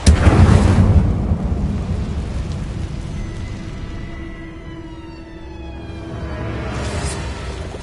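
An Incendio fire spell in Hogwarts Legacy erupts with a loud initial blast, then settles into a sustained roaring, crackling rumble that dips in the middle and swells again near the end.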